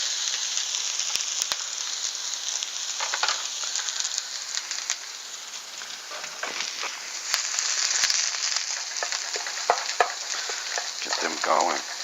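Onions dropped into a hot pan for a cabbage, carrot and onion stir-fry with oyster sauce, giving a loud, dense, continuous sizzle close up with scattered crackles and a few utensil taps.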